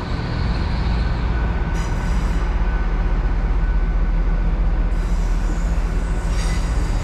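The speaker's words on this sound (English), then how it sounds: "1559 service to London Paddington from Plymouth. So that's 802-106 there." A Great Western Railway Class 802 train at Exeter St Davids station rumbles steadily and loudly, with a deep continuous roar, rolling wheel noise and faint squeals from the rails, and no one speaking.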